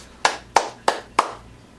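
Four sharp hand claps ring out at an even, slightly slow pace, each snapping loud and close before decaying, with nobody speaking.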